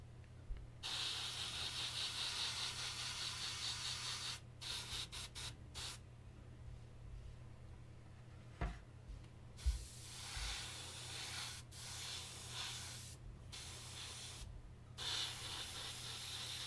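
Spray painting a 1/35 LAV-25 model with Tamiya NATO Green: bursts of close airbrush hiss, long and short, separated by quiet gaps and faint handling noises.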